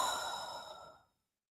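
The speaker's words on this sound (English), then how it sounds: "taking a deep breath in, cleansing breath, and breathe out" A single long, deep exhale, a soft airy sigh that starts full and gradually fades out to silence, close and quiet.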